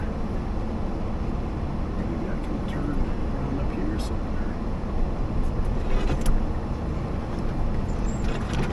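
A 2011 Ford Ranger pickup drives along a road in northern British Columbia, with a steady loud engine and road rumble throughout and faint rattles and clicks over it.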